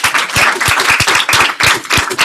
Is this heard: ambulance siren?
no